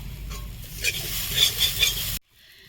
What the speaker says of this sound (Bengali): নারকেল কুচিটা আমি ভাজি নেব